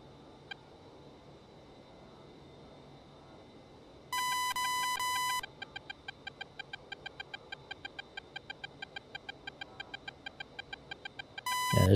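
Radar lock warning beeps in an A-10 Warthog cockpit in DCS World: a continuous high tone burst, then a fast, regular train of electronic beeps, with a second tone burst near the end over faint cockpit hum.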